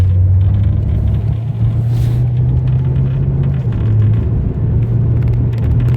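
A 1985 Ford Thunderbird engine drones steadily while the car is driven, with a loud, continuous low hum and road rumble that lasts the whole stretch and has no talk over it.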